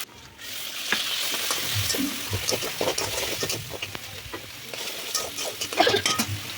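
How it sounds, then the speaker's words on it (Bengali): Ginger, cumin and green chilli sautéing in a pan, a close crackling sizzle broken by frequent scraping and stirring strokes that swell and fade unevenly. "আদা, জিরে, কাঁচা লঙ্কা, ভালো করে কষিয়ে নেব"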